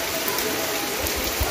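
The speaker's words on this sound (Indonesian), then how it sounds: "Langsung hujan, barokah di Allah." Steady rain falls near an Indonesian village mosque, a dense, even hiss with no pauses and faint low thumps underneath, close and moderately loud.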